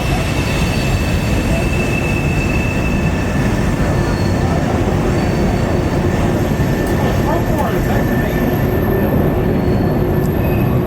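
A model train rumbles steadily past at close range, with loud continuous rolling noise and faint squealing from the wheels throughout.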